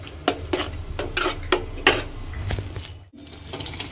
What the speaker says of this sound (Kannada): ಇದಕ್ಕೆ ಹಾಕಿದ್ಮೇಲೆ ನೀಟಾಗಿ ಒಂದ್ಸತಿ ಮಿಕ್ಸ್ ಮಾಡಿಕೊಂಡು ಒಂದು 5 ನಿಮಿಷ ಪ್ಲೇಟ್ ಮುಚ್ಚಿಡ್ಬೇಕು